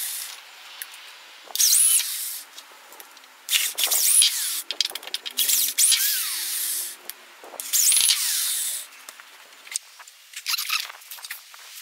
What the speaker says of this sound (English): Don't make too much fun of my piece of junk drill here.